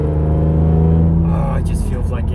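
A BMW E46 M3 with a Karbonius CSL carbon intake runs loudly, a steady deep engine drone that rises toward the end as the revs climb, heard close up without talk.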